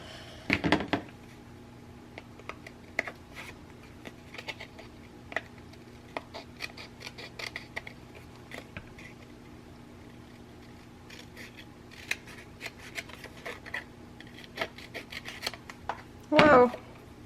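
Scissors cut a paper cover for a mini album, giving repeated short, sharp snips scattered up close over a low steady hum, with a louder rustle at the start and end.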